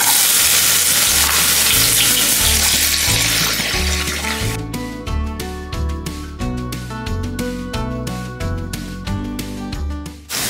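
Two medium chopped onions dropped into hot oil for mushroom masala, a loud burst of sizzling that settles into steady frying crackle with rhythmic stirring and scraping, close and without talk.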